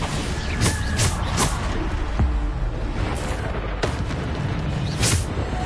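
Spell explosions from Bombarda blasts in the Hogwarts Legacy video game, several booming impacts in quick succession over a continuous dense roar of combat effects, loud throughout.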